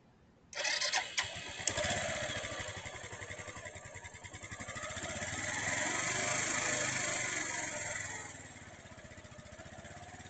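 A motorcycle engine fires up abruptly and settles into a rough idle, swelling briefly with a little throttle before easing back down, heard close with no talk.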